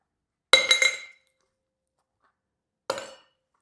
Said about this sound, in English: Then put a couple ice cubes into the larger tin.